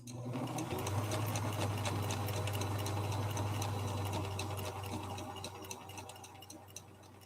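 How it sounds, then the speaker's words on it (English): An original-owner Viking Husqvarna Model 6430 sewing machine runs slowly with a steady motor hum and an even run of needle ticks, close by and fairly quiet, easing slightly toward the end. "the machine will be running at a much slower pace so we can manage"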